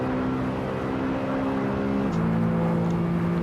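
A BMW E92 M3's engine drones steadily under acceleration through Curva Grande in the Assetto Corsa racing game, a loud continuous tone that drops in pitch once at a gear change and then climbs again.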